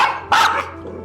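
A dog lets out one loud, sharp bark close by indoors in a house, with a short fading tail and no talking.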